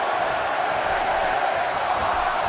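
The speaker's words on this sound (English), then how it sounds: "Listen to this crowd" A dense, steady roar of an indoor wrestling arena crowd cheering at an AAW Elimination Chamber event, loud and continuous with no single voice standing out.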